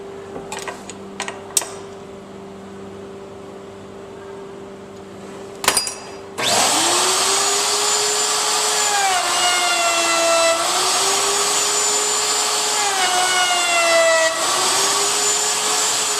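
Router table cutting wood, starting with a few sharp knocks, then a loud, sustained whining spin with shifting pitch as the wood is fed through, running continuously for about ten seconds.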